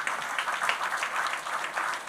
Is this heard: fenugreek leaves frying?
no